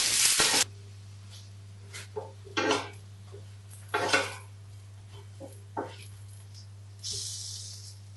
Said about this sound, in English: Fry until light golden brown.